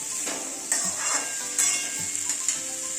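Mango pieces with dried chilli and five-spice seeds sizzle steadily in hot oil, a close, continuous fry with a few sharp clinks of a spoon stirring the pan.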